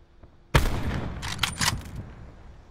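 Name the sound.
sniper rifle gunfire in a video game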